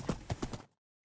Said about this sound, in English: So let's ride the horse and kill.